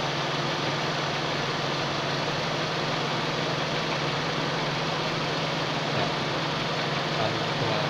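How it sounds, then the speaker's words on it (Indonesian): A Timor DOHC car engine idles steadily after its idle speed control is adjusted to a lower speed, giving a constant low hum with an even drone and no revving, running alone throughout. "hasilnya adalah putaran mesin semakin rendah ya"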